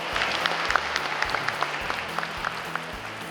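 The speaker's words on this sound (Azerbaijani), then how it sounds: "gəlin onları hamılıqla alqışlayaq" Spectators applaud schoolchildren athletes at a school sports competition, a steady wash of many hands clapping with scattered sharper claps standing out over a low background hum.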